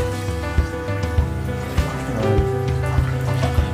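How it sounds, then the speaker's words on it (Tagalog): Rainwater runs and trickles into a flooded house during heavy rain, a steady close watery flow with small splashes and gurgles throughout, no speech over it. "Yan, pumapasok doon. Yan, medyo malinaw naman yung tubig."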